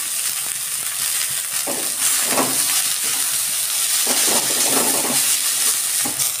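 Leftover rice frying in a pan with chopped cabbage and egg gives a loud, steady sizzle and hiss, broken by a few scraping stir strokes, with no talking.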